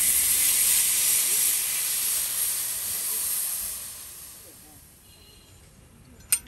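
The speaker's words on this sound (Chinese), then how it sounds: "大量的蒸汽冒出啊" Steam hisses loudly from a freshly opened old-style Chinese popcorn machine used to roast chestnuts in Northeast China. The sharp hiss fades gradually over several seconds, and a brief click comes at the end.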